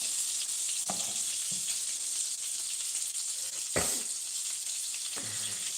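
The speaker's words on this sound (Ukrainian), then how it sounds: "Це котлетки, які вона смажить." Steady sizzle of cutlets frying in a pan fills the whole stretch, close and bright, with a few soft knocks and clatters from the pan now and then.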